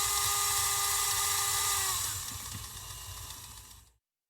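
A 1968 Tyco 4-6-0 model steam locomotive's small electric motor whines steadily at a high pitch, drops lower partway through, then keeps running until it cuts off, heard up close with no talking.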